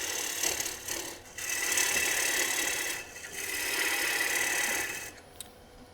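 A wood lathe spins a bowl while a gouge cuts shavings, a loud continuous hissing, whirring scrape close by that swells in two long passes with brief pauses between.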